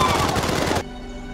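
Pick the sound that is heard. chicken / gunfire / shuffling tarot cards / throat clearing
gunfire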